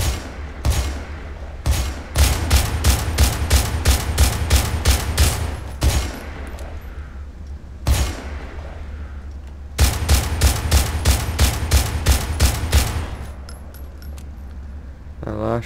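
Loud automatic gunfire in GTA IV with the LCPDFR police mod, several long rapid volleys separated by short pauses and single heavy shots, close and dominant.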